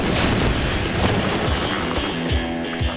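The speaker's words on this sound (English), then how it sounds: "I call this piece Explosion 753." Heavy, rumbling Minecraft explosions boom in a dense roar, with repeated deep blasts and crackling debris filling the whole stretch.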